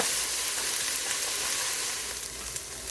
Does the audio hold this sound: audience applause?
no